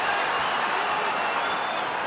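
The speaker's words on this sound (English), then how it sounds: "Crowd's loving it." Boxing crowd in the Fight Night video game, a dense, steady roar of cheering and applause filling the short stretch with no pauses, at moderate loudness.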